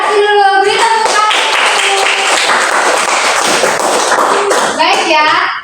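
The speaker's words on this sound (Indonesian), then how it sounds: "Beri tepuk tangan." A classroom of students breaks into dense, steady applause that lasts several seconds and sits close and loud, with a voice speaking just before and after.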